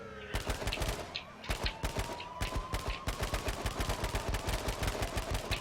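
Rapid automatic gunfire in the video game H1Z1 King of the Kill, a dense run of loud, evenly spaced shots firing almost continuously over a steady engine drone.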